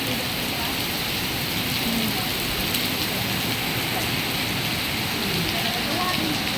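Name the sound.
heavy rain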